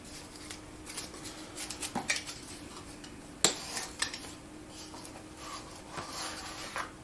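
Corrugated cardboard being cut to length by hand, with faint scattered snips, scrapes and light clicks of the blade through the board, quiet and close with pauses between cuts.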